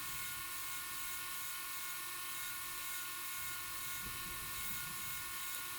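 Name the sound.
die grinder with carbide burr cleaning hammer eye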